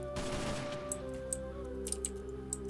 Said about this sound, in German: Und wir testen mal die Gun.